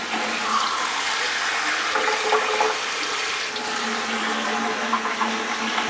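Cup of hot water poured into taco dough mix, a steady close splashing gush of liquid that runs continuously with no talk.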